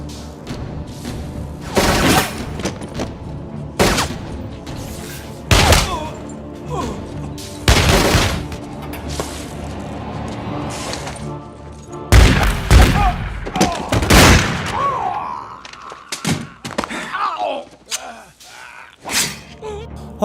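Gunfire in a mafia film shootout, loud sharp shots and bursts spaced irregularly over a tense background, with some thuds and rumbling between volleys, close and punchy.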